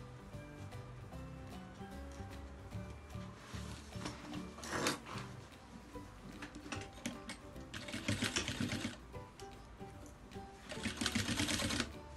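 A domestic sewing machine stitches bias binding on a men's toiletry bag with dividers, working in quiet bursts of fast, rattling stitches with short pauses between runs.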